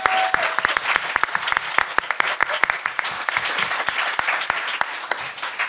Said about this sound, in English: Everybody, can we have a round of applause for Millie?